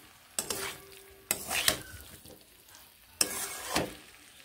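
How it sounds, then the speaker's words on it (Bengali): Pumpkin and malabar spinach stir-fried in a pan, with a few scraping stirs of a spatula over a soft sizzle, the strokes in short bursts with pauses between. "ভালোভাবে মিশিয়ে আরও একটু এইভাবে কষিয়ে নেব"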